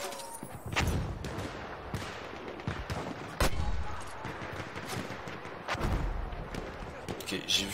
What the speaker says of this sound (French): Un mortier.